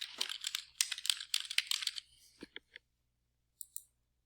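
Rapid keystrokes on a computer keyboard clatter in a quick burst for about two seconds, then a few separate clicks follow, close and clear in a quiet room.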